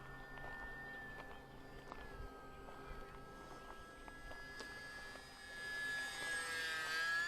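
An E-Flite UMX Timber X, a small electric RC plane on its maiden flight, whines steadily at a distance, its motor pitch wavering as it passes and swelling louder toward the end.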